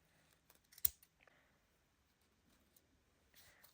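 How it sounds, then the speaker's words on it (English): Scissors snipping paper for a vintage journal cover, a few quiet close cuts with one sharper snip and light handling rustles, mostly sparse and faint. "what if we just take some of this and snip a piece off?"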